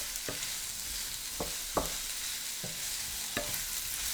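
Sausages and onions sear in a hot pan for rougail saucisse, giving a steady crackling sizzle broken by several sharp scrapes and clacks of a stirring utensil, with no talking.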